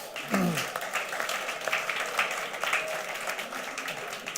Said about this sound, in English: applause for Josie, who is just a good moderator